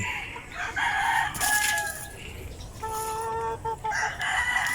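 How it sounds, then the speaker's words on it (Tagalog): A free-range rooster crows nearby, two long rising-and-falling calls with a short break between them, over faint farmyard background noise. "Ay, rooster yan mga kapatak."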